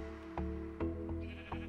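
Minecraft sheep bleating four times in quick succession, short nasal calls close and clear with no talk.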